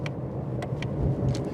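Low, steady exhaust rumble of a Ford Mustang 350R heard from the cabin, a muffled droning burble with a few faint clicks above it.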